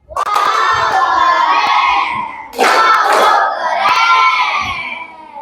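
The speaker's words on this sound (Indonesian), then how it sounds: "kasih tepuk keren" A classroom of children bursts into loud cheering and shouting in a rhythmic group chant, with a sharp surge midway before the voices taper off.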